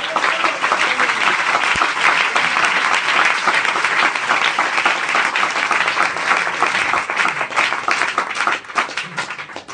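A congregation gives loud, sustained applause at an Adventist evangelism camp sermon, dense clapping that holds steady throughout and eases only slightly near the end.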